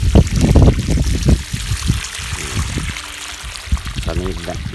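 Water gushing steadily from a 2-inch solar-powered well pump with AC/DC systems in Pathum Thani, a continuous pouring rush heard close under someone talking throughout.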